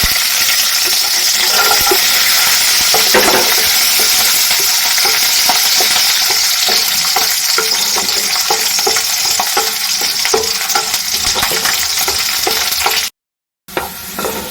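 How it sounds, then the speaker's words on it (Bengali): Chopped onion and garlic frying in oil, a loud, dense sizzle that runs steadily close up with stirring scrapes throughout, briefly cutting out near the end. "এবারে কেটে রাখা পেঁয়াজ রসুনটা ভেজে নিচ্ছি"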